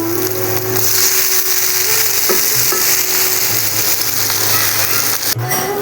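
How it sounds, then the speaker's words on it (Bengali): Steamed taro stolons frying in hot oil with ground dried red chilli in a wok, a loud, steady sizzle with intermittent scraping stirs, close and without talk. "ভাপিয়ে রাখা লতিগুলো এখন আমি দিয়ে দেবো কড়াইতে"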